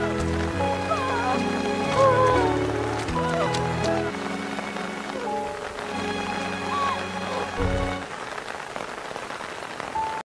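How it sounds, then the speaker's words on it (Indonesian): Heavy rain pours steadily through a dramatic film scene, with running footsteps and a swelling music score over the continuous hiss of the downpour; some voices are heard in places. "Melihat Yifei terjatuh di tengah hujan, teman-temannya berlarian menghampiri Yifei sambil membawa payung untuk Yifei"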